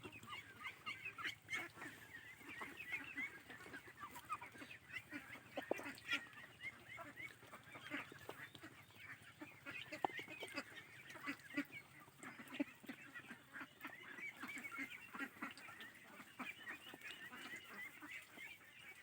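Khaki Campbell ducks quack and honk steadily while splashing and bathing in water after feeding, a busy flock close by with overlapping calls throughout and no talk.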